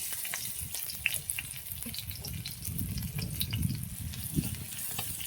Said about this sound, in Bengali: লাল লাল করে ভেজে নেবো রসুনটা